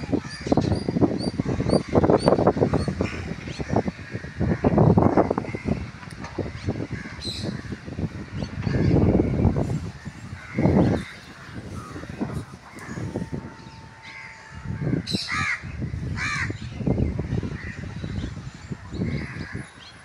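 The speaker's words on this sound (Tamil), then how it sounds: "பறவைங்க சவுண்டெல்லாம் பாருங்கள் எவ்வளோ அழகாக இருக்குது." Crows caw repeatedly in a quiet park near Marina Beach, loud and close, with other birds chirping and squawking among the calls and occasional brief sharper cries.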